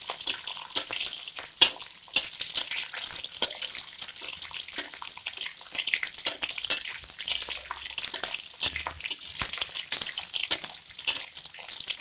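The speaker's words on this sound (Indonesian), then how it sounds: "Teri ini kita goreng sampai kuning kecoklatan." Small anchovies (teri) fry in oil in a pan, giving a steady, close, crackling sizzle with dense popping throughout and no talking.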